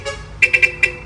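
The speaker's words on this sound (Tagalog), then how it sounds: "Yan, nagpataon na ng busina kay Paring Bagito." A truck horn honks in a quick series of four short, loud toots over a low engine rumble, close by.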